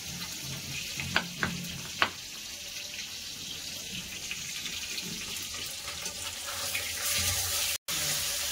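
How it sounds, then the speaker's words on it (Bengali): Fish pieces fry in a pan of oil with a steady broadband sizzle throughout, a few sharp clinks and scrapes near the start, and a louder burst of spitting toward the end; no one speaks. "মাছগুলো এক পাশ করে ভাজা হয়ে গেছে, আমি উল্টে দিয়েছি"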